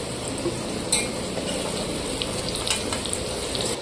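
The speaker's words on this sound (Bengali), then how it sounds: "পুরো সুন্দর করে ভেজে নিয়েছি লাল লাল করে" Vegetables for chhyachra fry in oil until reddish, giving a loud, dense, continuous sizzle with small crackles and no voices.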